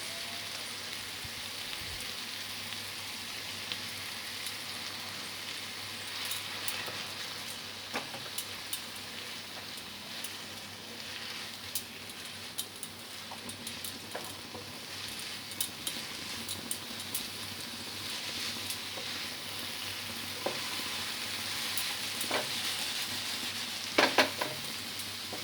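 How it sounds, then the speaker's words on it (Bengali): Chow mein being stirred and fried with vegetables and soybean chunks in a pan, a steady close sizzle with intermittent scraping and stirring clatter throughout, no talking. "চাউমিনের সঙ্গে সবজিগুলোকে ভালো করে, সয়াবিন আর সবজিগুলোকে ভালো করে মিশিয়ে নেব।"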